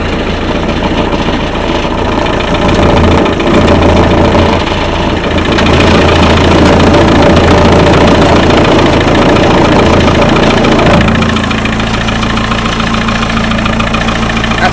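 A loud 2.5 litre Land Rover Discovery engine, fitted in a Series 2A Land Rover, runs steadily at idle throughout, a low rumbling drone with a faint mechanical knock, close by and with no talking.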